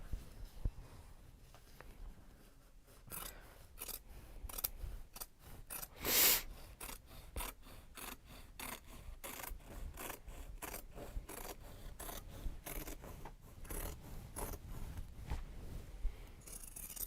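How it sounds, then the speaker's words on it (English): Scissors cut through a Japanese fabric bag in a steady run of soft snipping and rasping strokes, close and quiet, with one louder scrape partway through and no talk. "we'll be cutting it from this side because there's that seam on this side as well"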